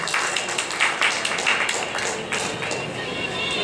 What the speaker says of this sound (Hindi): आप तालियों से स्वागत करें हमारे वक्ताओं का।